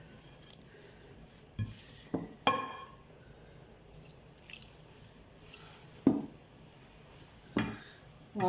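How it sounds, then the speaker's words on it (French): Couscous being mixed by hand in a bowl with oil, warm water and a pinch of salt, quiet rubbing and scraping with several sharp knocks and clinks of the bowl at irregular intervals. "vous le mélangez comme ça avec de l'huile, de l'eau tiède"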